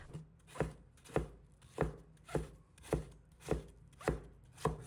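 A kitchen knife cuts potato into thin shreds on a board, landing eight evenly spaced, crisp chopping strokes at a steady, unhurried rhythm, close and clear with no talk.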